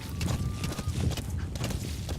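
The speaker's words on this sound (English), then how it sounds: "back here, you stupid fucking horse." A horse gallops in Metal Gear Solid V: The Phantom Pain, its rapid hoofbeats drumming steadily and loud, with a brief whinny-like tone and game ambience mixed in.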